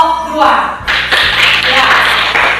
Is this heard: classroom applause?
yes